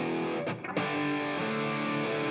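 Distorted rock rhythm guitar strums in Logic Pro with a short room reverb, a sustained chord cut by a brief choppy break, then ringing on loud and upfront.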